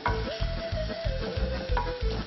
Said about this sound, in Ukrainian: Знову перемішуємо.